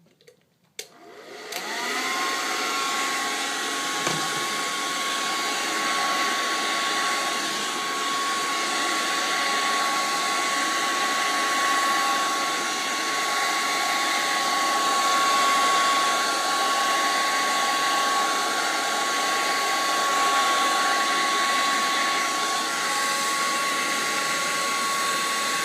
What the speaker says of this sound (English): you take it and then you start blow drying